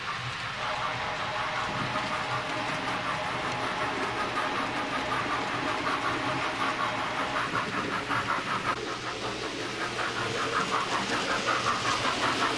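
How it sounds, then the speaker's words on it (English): A steady mechanical rumble and whir of a model train runs throughout, with a faint rhythmic clicking emerging toward the end as it rolls out of a tunnel along track. "train coming out of the tunnel."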